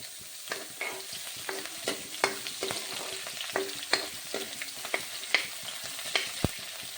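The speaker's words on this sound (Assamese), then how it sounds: "তেল গৰম হোৱাৰ লগে লগে মই ইয়াত সেয়া পিঁয়াজখিনি অকণমান ৰঙচুৱা হোৱাৰ পাছত মই ইয়াত আদা নহৰু দি দিম" Ginger and garlic frying in hot oil in a wok, a steady crackling sizzle broken by a string of sharp utensil scrapes and taps at an uneven rhythm, close and alone with no talk.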